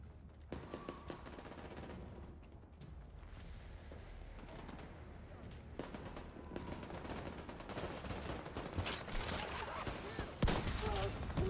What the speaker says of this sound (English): that dude shooting at me